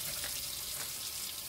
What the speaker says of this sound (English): as we open the tap, the pump will start to run